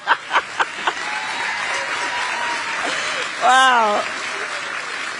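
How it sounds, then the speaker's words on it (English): Crowd applause at a Kamala Harris campaign rally in Pennsylvania opens with a few sharp claps, then swells into steady, sustained clapping and cheering, with a voice briefly exclaiming over it. "Can you believe that's an applause line?"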